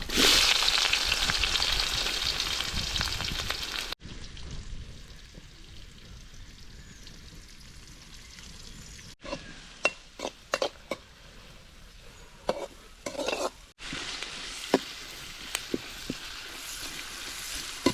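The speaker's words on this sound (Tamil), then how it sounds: "வெங்காயம் நல்லா பொன்னிறமாக வதங்கிடுச்சு" Onions sauté in hot oil with whole spices such as cloves, cumin and fennel plus green chilli, for a bamboo-pot biryani. A loud continuous sizzle is cut by abrupt breaks, with scattered stirring knocks and crackles.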